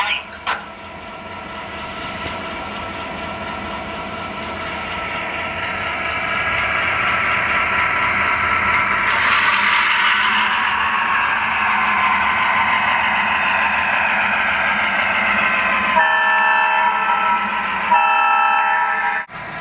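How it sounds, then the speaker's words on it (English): A Lionel model train on a Fastrack layout starts moving, its motor whining and rumbling, rising in pitch and loudness, then a short toot and chime near the end. "our train should start to move out"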